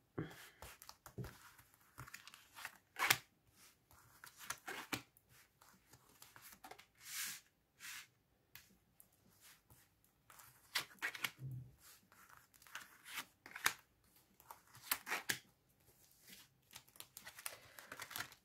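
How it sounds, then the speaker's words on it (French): Tarot cards slid and spread across a surface during a reading, giving soft papery shuffles, crinkles and brief card flicks scattered irregularly at close range, with no talk. "on va étaler les cartes"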